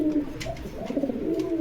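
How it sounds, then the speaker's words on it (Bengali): A domestic pigeon at a market stall coos in low, rolling, throaty calls repeated steadily throughout, close and clear with no talking. "কবুতর ডাক দেখেন"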